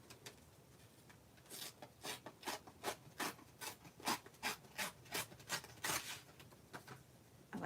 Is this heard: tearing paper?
yes